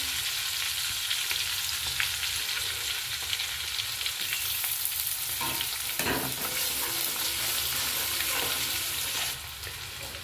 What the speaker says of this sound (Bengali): এবারে দেবো আদা কুচি